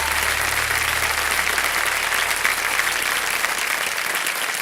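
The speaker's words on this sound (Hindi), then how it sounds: "एक बार फिर जोरदार तालियों के साथ" Loud, sustained applause from a television quiz show studio audience, a dense continuous roar of clapping holding steady for several seconds with no talk over it.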